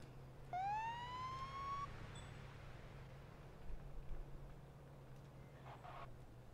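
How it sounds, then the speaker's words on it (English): A police siren from a video game sounds once as a single rising electronic wail with stacked harmonics, fairly loud over a steady low engine hum, then fades into the background drone. "that's their version of Siren."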